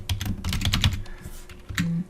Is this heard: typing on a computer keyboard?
yes